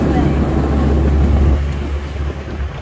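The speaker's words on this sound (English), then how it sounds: "We're on a train." An amusement park train ride at Bay Beach in Green Bay, Wisconsin, with a steady low rumble of the moving train close up, under faint, indistinct voices.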